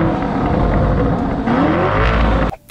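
A Lamborghini Urus exhaust in standard mode rumbles loud and close with a deep, steady engine drone and a slight rise in revs before cutting off abruptly near the end.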